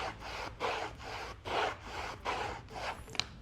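A squeegee drags over XPel protective film being laid flat on a vehicle panel, making close rubbing swipes in four or five rhythmic passes, ending with a small sharp tick.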